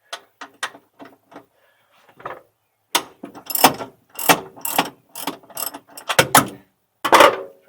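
A wrench breaking loose and turning a rear coilover bolt on a car, a series of quick ratcheting clicks in bursts with short pauses, fairly close and alone with no talk.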